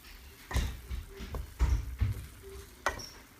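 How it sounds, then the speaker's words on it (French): A spoon gently turns cooked Turkish rice in a pot, giving a few quiet, soft scrapes and light knocks spaced over a few seconds, close and unhurried. "Juste avant de servir, on va juste mélanger comme ça"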